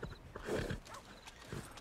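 Horse in the Red Dead Redemption 2 video game gives a brief, fairly quiet whinny with a soft snort and hoof-like thumps, alone without talk.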